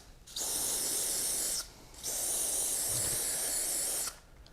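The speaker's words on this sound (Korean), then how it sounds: "세 번째는 좋은 케미칼의 실리콘 스프레이입니다" Silicone spray from a Joeun Chemical can hisses out in two long, steady bursts, close and fairly loud, separated by a short pause, with no talking.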